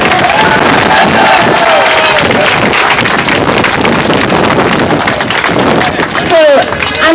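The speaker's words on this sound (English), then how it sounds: "Let's give her another big round of applause." A crowd at an outdoor March Against Monsanto rally claps and cheers loudly and steadily, with wind buffeting the microphone and some voices calling out through the applause.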